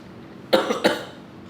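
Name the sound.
person coughing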